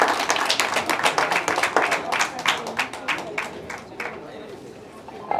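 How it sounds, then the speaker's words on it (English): Applause from an audience at an Ayurveda Day award function, sharp individual claps in a brisk patter that gradually thins and fades, with some voices in the room alongside. "A big round of applause to sir."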